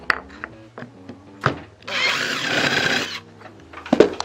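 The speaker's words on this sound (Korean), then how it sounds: "이렇게 미리 구멍을 뚫으세요" An electric drill bores a pilot hole in wood while a safety workbench for wood carving is built, a steady whirring burst of about a second amid close clicks and knocks of handling.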